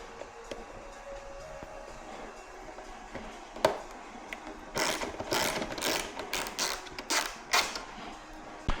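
A flange bolt being loosened on the front fairing of a 2026 Ducati Panigale V4R gives a run of close ratchet clicks and creaks, with one sharp tick before the main burst of clicking.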